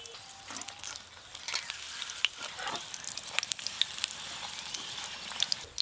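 Soybean omelette pieces fry in a pan of hot oil, using only a little oil, with a steady close sizzle broken by sharp crackles and pops throughout, no voices.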